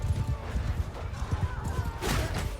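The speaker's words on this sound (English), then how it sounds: "We've got a cav division and horse archers rampaging." Massed cavalry hoofbeats drum steadily through a large medieval battle in the Bannerlord video game, with horse archers charging amid dense battle noise and a brief whinny-like burst near the end.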